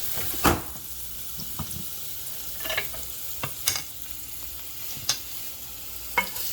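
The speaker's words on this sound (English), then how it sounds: "a little bit of my ginger and garlic. I just want to perfume that oil and give it a quick toss" Ginger and garlic sizzle in hot oil in a pan. A steady, bright hiss runs throughout, broken by scattered clinks and scrapes as the pan is stirred and tossed. There is no talk.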